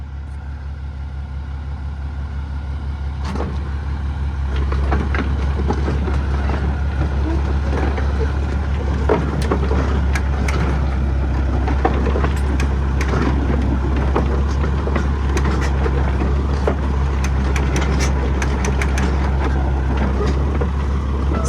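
An old Caterpillar 2 Ton tractor engine runs with a loud, steady low rumble, joined by clanks and rattles from the machinery, while people talk intermittently nearby.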